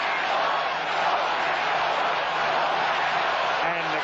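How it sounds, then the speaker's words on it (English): Football stadium crowd at a 1981 Chicago Bears at Green Bay Packers game, a dense steady roar of cheering spread evenly across the stands, sustained and loud throughout with no pauses. "Crowd has come to life."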